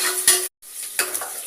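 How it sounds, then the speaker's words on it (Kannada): Sliced onion and green chillies fry and are stirred in a pan, giving a close, bright sizzle with scraping stirs. A brief silent cut falls in the middle of the short stretch. "ಆಮೇಲೆ 2 ಹಸಿಮೆಣಸಿನಕಾಯಿ, ಈರುಳ್ಳಿ ಹಾಕ್ಕೊಳ್ತಾ ಇದ್ದೀನಿ. ಇದು ಈರುಳ್ಳಿ ಸ್ವಲ್ಪ ಫ್ರೈ."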